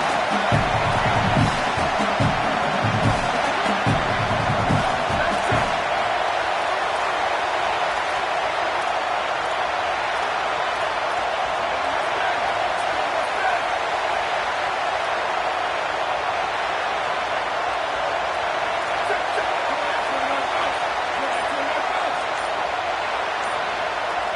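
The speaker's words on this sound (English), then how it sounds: "Big third down as the crowd gets behind this defense." Football stadium crowd roaring on a third down at Michigan in a college football video game, a loud, dense, sustained wall of cheering that holds steady throughout, with brief announcer-like voice texture at the start.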